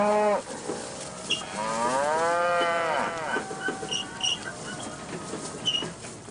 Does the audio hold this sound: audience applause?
no